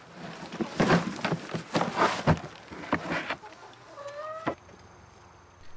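Chickens cluck and squawk inside a coop bedded with fallen leaves, several loud close calls in an uneven burst before a brief high squeal and then quiet.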